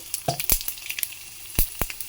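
Chillies, garlic and tempering seeds sizzle and crackle in hot oil, with sharp irregular pops and spits over a steady frying hiss.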